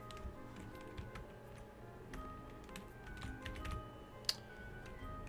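Quiet, close clicking of a computer keyboard as a Dwarf Fortress player types commands, with irregular taps spread throughout and one sharper click near the end over a faint steady hum.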